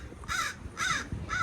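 A seagull at the Santa Cruz Beach Boardwalk calls three times in quick succession, each a harsh, nasal, moderately near squawk with a short pause between, over faint outdoor background.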